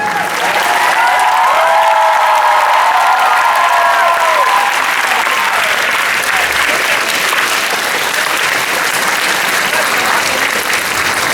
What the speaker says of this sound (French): c'était pas mal les applaudissements